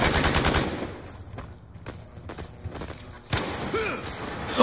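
Gunfire in Black Ops 2 shooting through a wall across the map, a rapid burst of automatic shots up front followed by scattered thuds and a sharper crack, with game effects in the background.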